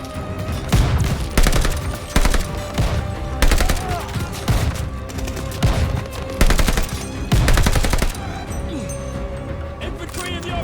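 Rapid bursts of gunfire in Call of Duty Vanguard, loud and close, repeated volleys of automatic fire with short gaps and booms behind, while soldiers shout commands over the shooting.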